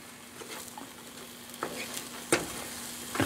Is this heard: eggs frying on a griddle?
yes